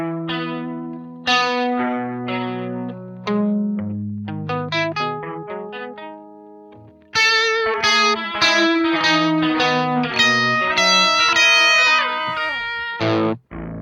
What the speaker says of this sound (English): we're going to check out actually a legacy effect, which was introduced with a previous firmware update. It's the Smart Harmony.